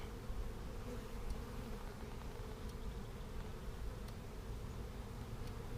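Honeybees from an open hive, a steady low drone of many wings, faint and continuous with no voices.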